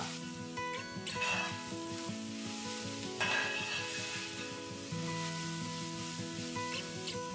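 Onions sautéing in a pan give a soft, steady sizzle, with occasional stirring swishes and scrapes rising now and then.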